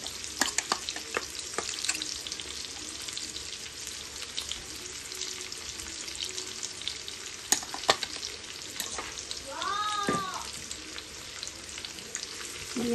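Chopped garlic fries over high heat in a pan and gets stirred, a continuous close sizzle broken by scraping utensil strokes and a few sharp clinks against the pan, with no talking.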